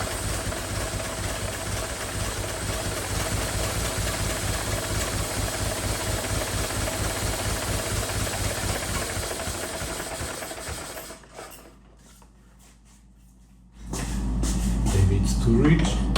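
A 1914 Model T Speedster engine runs with a steady, dense mechanical chatter for about eleven seconds, then cuts out and falls nearly silent before a loud low rumble returns near the end.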